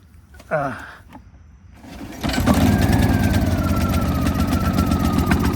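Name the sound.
Honda EU2000i generator pull-started and running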